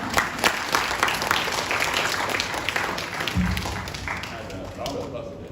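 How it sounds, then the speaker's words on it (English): Audience members at an Indian event on entrepreneurship for single mothers clap together in a continuous round of applause, close and fairly steady, with a voice and a low thump partway through. "Round of applause today."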